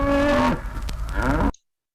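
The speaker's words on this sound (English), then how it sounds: "It's the mooing of the cow" A cow gives a loud, long moo with a second rising bellow, close and clear, then silence.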